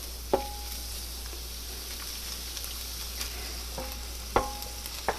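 Drained, washed meat with taco seasoning sizzles softly in a pan under a steady fry hiss, with a few sharp scraping clicks as it is stirred.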